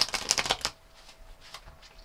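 Tarot cards being shuffled by hand, a quick close burst of crisp riffling and flicking that dies away after a moment, followed by quieter faint card taps.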